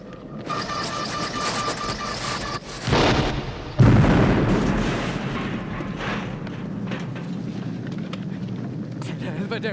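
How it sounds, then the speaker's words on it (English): A loud explosion rolls out in a scene from the horror film The Thing, a deep boom with a long rumbling decay, mixed with shouting voices and film score. "the Norwegian men try and go as far as to kill the dog with explosives"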